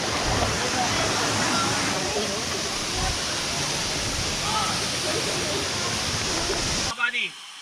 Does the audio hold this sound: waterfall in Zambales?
yes